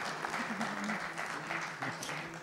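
Clapping from a crowd, steady and moderately loud, mixed with a few voices in the background.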